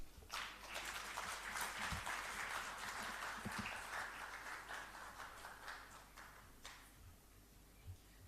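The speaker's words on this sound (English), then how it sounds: "A round of applause" At a graduation ceremony, a crowd applauds, clapping building quickly and then slowly thinning out, dense at first and tapering to scattered claps.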